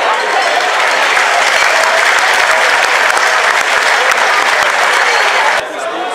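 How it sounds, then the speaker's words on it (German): Loud, dense applause from a crowd at a marksmen's festival in Weihenzell, continuous for several seconds before it fades slightly at the end. "Ich darf hiermit recht herzlich unter großen Applaus und einem Tusch nach vorne bitten. Alexandra Weiß"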